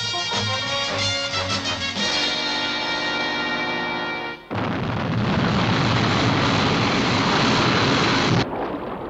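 Sky 1 interceptor aircraft lifting off in the UFO TV series: a loud sustained roaring engine rush with a tonal whine, surging abruptly midway into broad thrust noise, then cutting back near the end, no talk.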